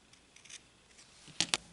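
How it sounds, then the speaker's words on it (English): Two quick, crisp snips of scissors trimming the small fabric tip from a diamond quilt piece for a Grandmother's Garden quilt, near and fairly loud after a quiet pause. "You're going to cut off that little tip right there."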